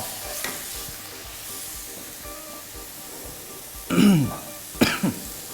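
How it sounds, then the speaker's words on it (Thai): Sugar, light soy sauce and pepper seasoning are stirred in a pan for a vegetarian stir-fry, giving a soft sizzle with a couple of louder scraping stirs near the end. "คนให้น้ำตาลละลาย"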